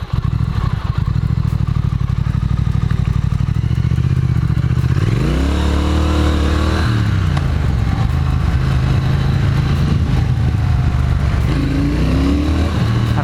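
A 2018 Triumph Thruxton motorcycle runs loud and close while being ridden, its engine note climbing and dropping through gear changes with steady rumbling throughout and wind noise, no speech heard.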